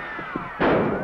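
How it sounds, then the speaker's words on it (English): A starter's gun fires once, a single sharp close bang that booms and echoes over steady background noise in an old 1937 musical comedy film soundtrack. "There goes a starter's gun, and they're off."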